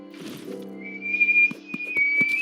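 A person's voice imitates a whistling kettle, a rising, steady whistle tone that swells and holds over about a second and a half, with a few short breathy bursts near the end, fairly close and clear.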